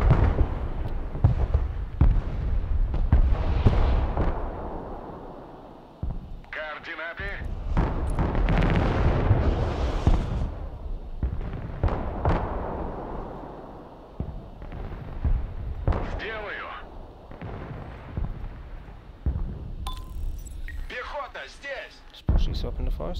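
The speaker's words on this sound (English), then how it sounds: "Yeah, I got artillery firing." Artillery fire booms and rumbles in the Broken Arrow war game, with repeated heavy blasts and explosions crowding a busy battlefield mix while a player talks over it.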